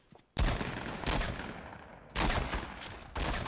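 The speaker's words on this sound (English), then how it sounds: "I hear someone else using the SMG." Bursts of rapid SMG fire in Fortnite, loud and close, come in several separate volleys with short gaps between them and a sharp crack opening each burst.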